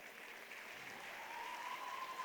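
Steady audience applause at a school annual day event, welcoming a circus crew onstage; a dense, continuous wash of clapping holds at even loudness throughout, with a faint whistle-like tone drifting in near the end.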